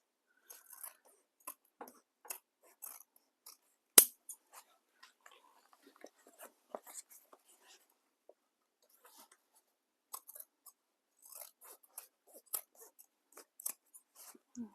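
Scissors snip through the fabric sides of a tote bag in sparse, quiet clicks and cuts, scattered irregularly with pauses between bursts.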